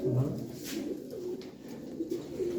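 A pigeon at a live bird auction coos clearly and close, a series of throaty rolling calls repeated through the moment over quiet room noise.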